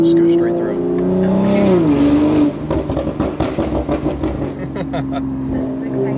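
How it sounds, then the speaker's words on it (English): BMW G42 M240i with its exhaust valves open, a loud engine note rising then dropping off, followed by a rapid string of sharp crackling pops and bangs on the overrun, with faint voices underneath. "so you can hear the pops now"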